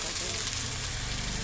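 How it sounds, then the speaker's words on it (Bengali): Turmeric and salt sautéing in a pan, a soft steady sizzle with faint stirring running through the whole moment, quiet and close. "হলুদ আর নুন দিয়ে দিলাম, দিয়ে একটু কষবো"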